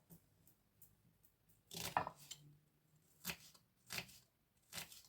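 A knife chops onions on a board in a handful of crisp, irregular strokes, close and fairly quiet, with short pauses in between.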